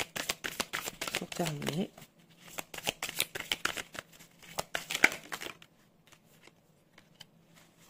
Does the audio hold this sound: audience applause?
no